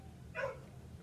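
A single short dog bark, faint and somewhat distant, rising briefly above a low room hum.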